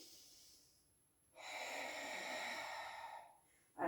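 A single deep inhale during a Pilates exercise: a drawn-out, close breath lasting about two seconds, set between quiet pauses, with the start of another breath at the very end.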